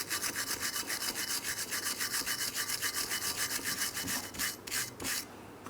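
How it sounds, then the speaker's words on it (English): A brake caliper bracket from a 2008-2016 Chrysler Town & Country is sanded with fast, steady back-and-forth rasping strokes, close and continuous, slowing to a few separate scrapes at the end. "You can use some sandpaper, a sanding disc, or even a wire brush."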